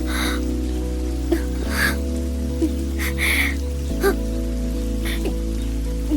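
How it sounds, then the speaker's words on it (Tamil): Steady rain falling onto surfaces, a constant dense patter with a few louder drops, heard in a TV drama scene over a sustained musical drone. "நிஜமாவே மழை வந்துருச்சு."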